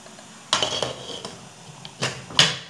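A lid is set onto a couscoussier steamer pot sitting over a pot of hot water, giving a few sharp metallic clanks and clatters close by, the loudest knocks coming near the end, with no talking.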